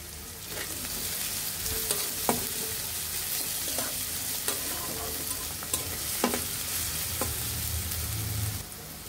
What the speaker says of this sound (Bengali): এখন খুব সামান্য পরিমাণের মতো লবণ দিয়ে দিব যাতে পেঁয়াজটা তাড়াতাড়ি নরম হয়ে যায়